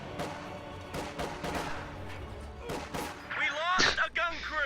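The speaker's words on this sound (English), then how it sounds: "Continue with rocket fire!" Rapid bursts of rocket and gun fire thunder through a WWII strategy game battle, a continuous barrage of blasts with sharp whistling streaks near the end, while a voice talks over it.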